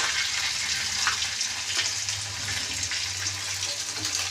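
Boyal fish frying in a pan gives a steady, dense sizzle and crackle throughout, close and fairly loud, with no voices.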